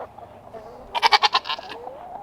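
A single goat on a farm lets out a loud, close, wavering bleat lasting about a second, with quiet outdoor background around it.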